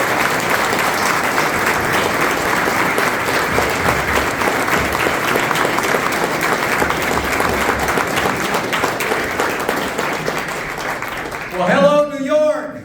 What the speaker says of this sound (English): How about another round of applause for Jerry Kassar